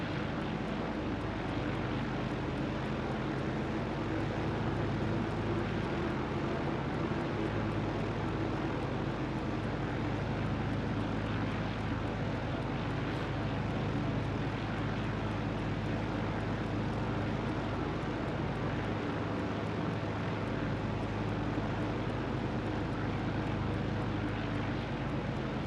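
A propeller airplane engine in Microsoft Flight Simulator 2020 drones steadily in a loud, continuous hum with a constant low rumble, unchanging for the whole stretch.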